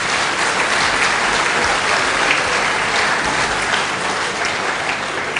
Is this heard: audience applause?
yes